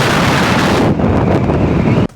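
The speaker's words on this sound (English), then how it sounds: "The wind noise even with the noise reduction on GoPros is really bad." Heavy wind buffeting on a GoPro action camera mounted on a helmet or extension stick while riding an electric skateboard or motorcycle, a loud, constant roar that dips briefly mid-clip and cuts off abruptly near the end.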